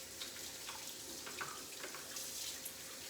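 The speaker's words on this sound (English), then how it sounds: "Let me just rinse my hands." Water runs steadily from a kitchen tap while hands are rinsed beneath it, a continuous close splashing hiss lasting a few seconds with no talking.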